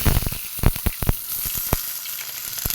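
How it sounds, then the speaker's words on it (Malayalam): Onions and fenugreek frying in hot oil give a steady crackling sizzle, with sharp pops and spatters scattered through it. The frying is close and fairly loud, and nobody speaks. "ഉള്ളി ഇട്ടിട്ട് നല്ലോണം മൂപ്പിച്ചു കൊടുക്കണം"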